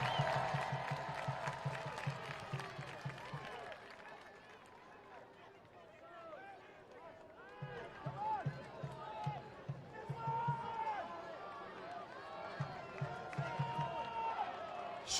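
A stadium crowd cheers and roars through a Greenville Triumph SC vs. Athletic Club Boise soccer match, a steady wash of noise that swells in places beneath continuous play-by-play commentary.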